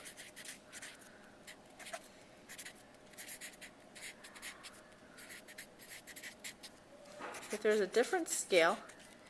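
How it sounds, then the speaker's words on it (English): A pen draws a line on paper while marking a scale change on a graph, giving a series of short scratchy strokes; a person speaks briefly near the end. "You'll be able to draw a line here."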